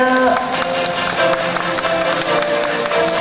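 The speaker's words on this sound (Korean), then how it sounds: "여러분들께서는 큰 박수 보내주십시오" Applause for a guest introduced at the opening of a national poetry recitation contest, a steady dense patter of many hands filling the hall throughout with a faint tonal hum underneath.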